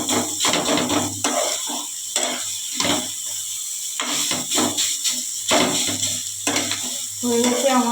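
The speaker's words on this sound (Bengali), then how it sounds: "এটা প্রায় ভাজা ভাজা হয়ে এসছে, আর একটু ভালো করে নেড়ে দিচ্ছি" A spatula stirs frying banana stem in a pan in repeated rhythmic strokes, each scrape landing over a soft, steady sizzle close by.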